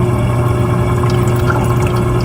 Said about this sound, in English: At this point, you should be able to hear and see water.